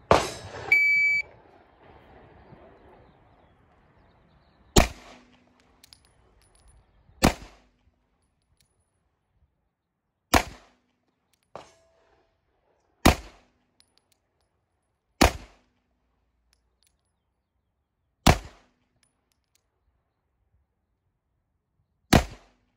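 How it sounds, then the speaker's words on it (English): Shot timer beep starting a ten-round pistol string on a B8 bullseye target at an outdoor range: a short beep after brief shuffling, then sharp, loud single gunshots spaced a few seconds apart in a slow, deliberate rhythm. "on the beep, you're gonna give me your best 10 rounds, no time limit, make every round count"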